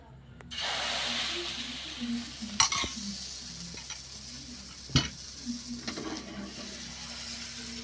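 Batter ladled into ghee on a hot pan for patishapta pitha sizzles and hisses steadily, close and fairly loud, with a few sharp clinks of utensils against the pan.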